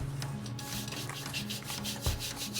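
A brush scrubs the face of a truck wheel during a wash, making close, steady rhythmic back-and-forth rubbing strokes with no talking.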